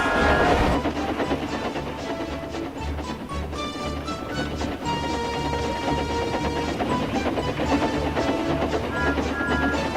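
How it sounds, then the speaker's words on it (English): A steam engine rolling steadily along the rails with a continuous rhythmic chugging and clatter, loud and close, with tonal whistle-like lines over the top. "engine's blue paint sparkled in the sunshine as he puffed happily along his branch line with Annie and Clarabelle."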